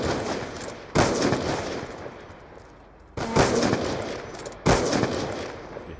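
Video game gunfire comes as three loud, sharp bursts of shooting, each decaying into a rough sustained rumble, with the first and last blasts close and heavy and a quieter lull between them.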